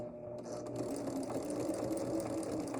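A sewing machine chain stitches pieces of a flower for a table runner, running in a steady, close, continuous mechanical whir from start to finish.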